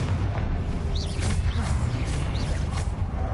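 Confringo blasting curse explosions in a video game, a dense, continuous roaring rumble of blasts with repeated booming bursts layered over one another, loud and close throughout.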